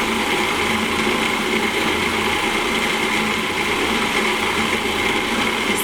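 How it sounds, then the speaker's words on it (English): A blender whirs steadily while mixing cupcake batter made with raw honey, a constant high motor drone with no pauses, close and fairly loud. "now we're going to go ahead and blend this much"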